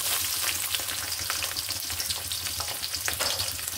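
Green chilies and chopped onion frying in a pan, a loud dense crackling sizzle that runs unbroken and close, with faint stirring textures and no voices.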